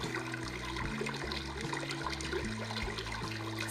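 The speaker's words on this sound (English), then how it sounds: "The brook." A white noise machine plays its brook setting, a steady broadband trickling water wash with a faint repeating low hum pattern underneath, continuous and moderately quiet.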